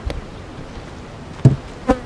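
Honey bees hum steadily and fairly quietly inside an opened hive during frame inspection, with a couple of sharp knocks from the hive frames cutting through the buzzing.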